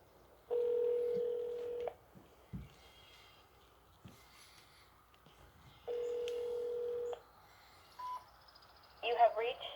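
Telephone keypad tones dial out to the Ohio State Highway Patrol, with two long steady beeps and a few short tone bursts between quiet gaps, plus faint breathing.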